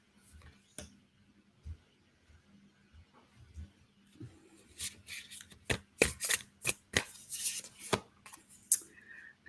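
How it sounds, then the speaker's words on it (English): Tarot cards being shuffled by hand during a card reading, giving a run of soft riffling and tapping bursts that grow busier and louder toward the end, with no talk over them. "So please bear with me while I shuffle."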